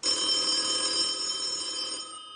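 A telephone bell rings loudly and steadily with a bright metallic trill, continuous for about two seconds before cutting off, with no talk over it.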